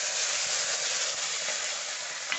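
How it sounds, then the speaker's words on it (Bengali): Prawns fry in hot oil in a wok, a steady dense sizzle throughout with a faint clink near the end, no voices. "চিংড়ি মাছগুলো কড়াই দিয়ে দেবো।"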